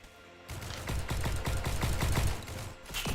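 Rapid bursts of gunfire in the Roblox battle-royale game Tropical Royale, a quick run of sharp, evenly spaced shots for about two seconds, fairly loud, then a brief pause and another shot.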